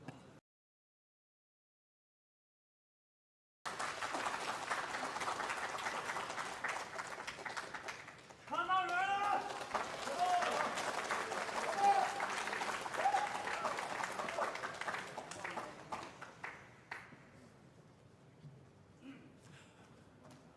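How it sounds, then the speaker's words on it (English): Crowd at a snooker tournament in a Xi'an esports centre applauding as the players re-enter the arena before a deciding frame, sustained clapping after a brief silence, with a commentator's voice and crowd murmurs mixed in, fading toward the end. "A warm applause from the crowd as the players both re-enter the arena."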